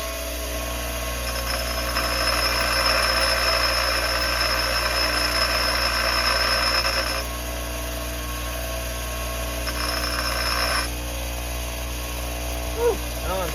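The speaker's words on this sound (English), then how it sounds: "Got our bench grinder here, sitting on the wooden homemade bench here." A bench grinder on a wooden homemade bench grinds metal parts, a steady high whirring hiss over the motor hum that cuts out and returns briefly before the wheel runs on alone.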